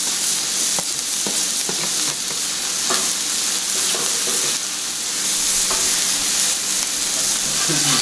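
Ham and green pepper sizzle steadily on a Blackstone griddle, a constant close frying hiss broken by scattered spatula scrapes and taps.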